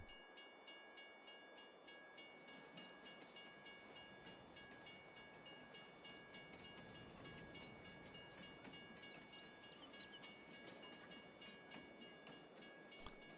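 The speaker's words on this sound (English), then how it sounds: "Here comes the train." A train in the Farming Simulator 22 video game rolls along with a steady rumble and regular rhythmic clicks of wheels over rail joints, plus a sustained tonal hum, fairly quiet and without talk.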